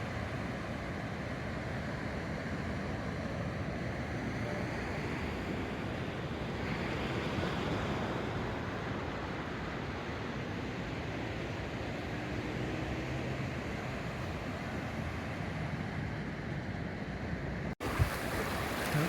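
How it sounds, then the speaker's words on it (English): Small ocean waves wash steadily onto the coast at Tamarindo, Costa Rica, a continuous broadband surf roar with wind buffeting the microphone, and a brief sharp knock near the end. "Again, the tide's coming up, and I wonder if it's surfable. Obviously, I can see that it's tiny waves,"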